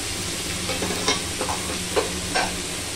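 Potatoes frying with chili, cumin and salt in a pan: a loud, steady sizzle with a few sharp scrapes of stirring, and no talking.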